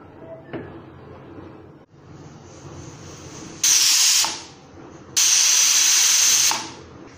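A pressure cooker of egg roast on the stove lets out two loud, sustained hissing bursts of steam, each a second or more long, over a quieter kitchen background.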